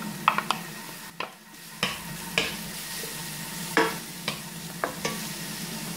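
Grated carrot sautéing with onions in a pan for an artichoke-heart and minced-meat gratin: a steady soft sizzle punctuated by about eight sharp spoon-stirring clicks and scrapes at an uneven rhythm, close and fairly quiet.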